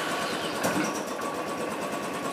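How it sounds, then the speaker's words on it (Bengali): Royal Enfield motorcycle engine started with the self-starter, then settling into a steady, fast mechanical chatter and thump heard close up with no talking. "সেল্ফতে হয়ে গেছে স্টার্ট"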